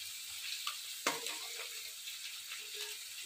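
Puti fish frying in oil, a steady soft sizzle with a brief clatter near the start, fairly quiet with no talk.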